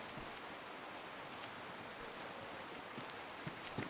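Steady rain falls in DayZ as a faint, even hiss with occasional soft drop ticks, constant throughout and with no voices.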